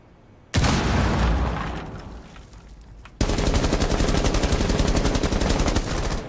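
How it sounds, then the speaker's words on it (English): A frag grenade detonates in Rainbow Six Siege with a sudden loud blast that rumbles and fades, then sharp rapid automatic gunfire bursts in and rattles on steadily to the end. "Frag grenade hot!"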